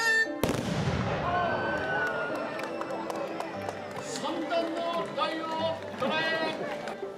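Matchlock guns firing in a samurai tactics demonstration, with a sharp loud report right at the start followed by crackling bursts and crowd commotion, layered over background music and voices.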